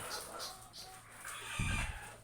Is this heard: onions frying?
no